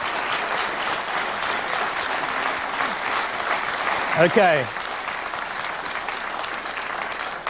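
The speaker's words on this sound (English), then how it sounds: "If you'd give them a round of applause," A studio audience at a televised global warming debate applauds in a steady, dense wash of clapping that swells briefly midway, with a voice speaking over it.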